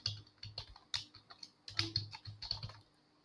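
Quick bursts of keystrokes on a computer keyboard, clicking in uneven runs with short pauses between them, close and clear, then trailing off into quiet.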